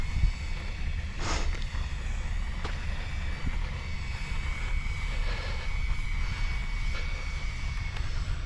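An E-Flite F-16 Thunderbirds 70mm electric ducted-fan RC jet flies overhead with a steady, moderately loud whooshing whine that rises and falls slightly as it passes, wind noise underneath, no voices.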